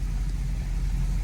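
A 1976 Cadillac Seville being driven, its engine giving a steady low rumble close by with no one speaking.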